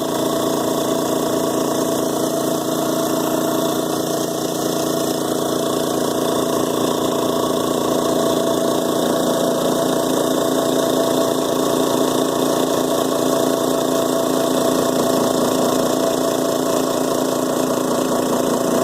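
A Craftsman air compressor runs continuously, a steady, loud mechanical drone with an even motor hum and no pauses or speech.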